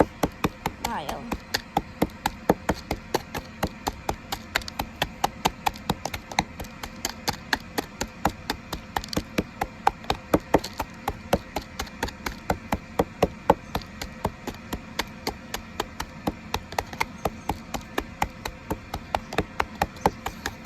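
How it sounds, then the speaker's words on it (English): Clay being crushed into powder by hand, heard as a steady run of sharp pounding knocks repeating roughly every third of a second, close and fairly loud, going on for the whole stretch. "we just keep crushing till we get some lots of nice, wonderful sand."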